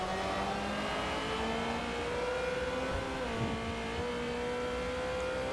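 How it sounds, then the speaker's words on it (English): A Ferrari Formula race car in the Forza racing game, its engine whining as it revs up and accelerates, with a sustained high engine tone that climbs and shifts pitch midway, loud and continuous with no talk. "That acceleration of that Ferrari is just phenomenal"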